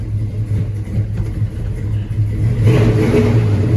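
An LS-swapped Chevrolet C10 pickup truck's V8 engine idling with a low rumble, then revving up sharply near the end, loud and close with no talking.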